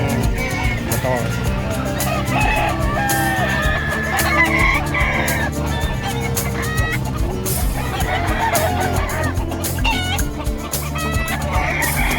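A crowd of chickens and roosters at a livestock market clucks and squawks nearby, with crowing and honking calls mixed in, over busy chatter from people trading.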